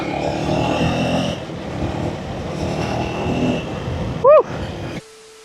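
Motorcycle riding off-road on a muddy, rough mountain trail in Manang, Nepal, its engine a steady close rumble for about five seconds, with a brief high whine near the end before the sound cuts to near silence.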